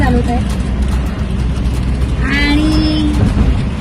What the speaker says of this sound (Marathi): गाडी चालवत आहे